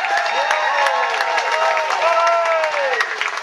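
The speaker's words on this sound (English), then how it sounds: "How about a huge round of applause?" After a flamenco show on the Grand Princess cruise ship, an audience claps and cheers loudly and steadily, with rising and falling whoops and voices over the clapping.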